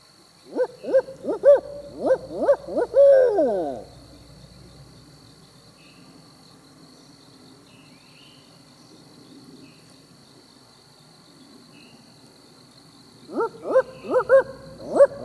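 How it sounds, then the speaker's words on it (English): Owls hoot in a rhythmic series of several low calls, then fall silent and call again near the end, heard in an open outdoor setting around sunset with crickets chirping faintly throughout. "I called in some other owls"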